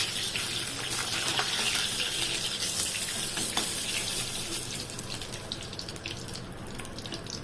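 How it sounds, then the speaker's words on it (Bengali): Katla fish pieces frying in oil in a pan for malai katla, a steady close hiss and sizzle with crackles, with no talking. "হালকা করে তুলে নিচ্ছি মাছগুলো ভেজে নিচ্ছি"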